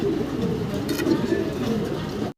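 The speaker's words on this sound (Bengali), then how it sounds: "রেঞ্জ কবুতর ইয়েলো কালারের ভিতরে" Yellow range pigeons coo in a loft, a soft, low, rolling murmur close by, overlapping calls from several birds over the short stretch before it cuts off.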